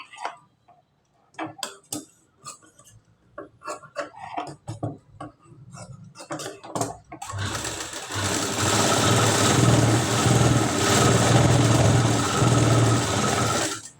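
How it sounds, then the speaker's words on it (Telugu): Sewing machine stitching a katori blouse, starting with scattered short clicks and taps, then running steadily and loudly for the last several seconds as a continuous mechanical whir. "ఇలా నీట్గా స్టిచ్ అనేది వేసుకోవాలి."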